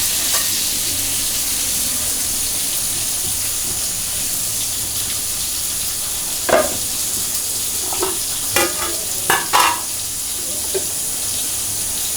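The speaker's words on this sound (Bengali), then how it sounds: "হালকা তেলে ভেজে নিতে হালকা কোটা তেল দিয়ে ভেজে নিতে হবে" Chicken chops frying in a little oil give a steady, even hiss from start to finish, with a few short clinks and scrapes near the end. No one speaks.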